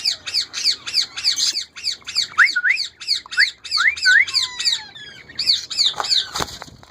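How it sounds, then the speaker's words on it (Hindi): A female ringneck parrot flaps its wings hard in repeated rapid bursts close by, mixed with sharp squawks and chirpy whistled calls, ending in a few loud scuffing knocks. "ये उड़ उड़ कर काटती है"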